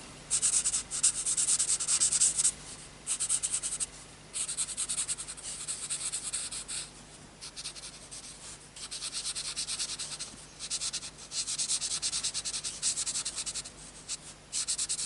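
Soft scratchy rubbing of a blender pencil on printed paper, in repeated short strokes with brief pauses, close and quiet.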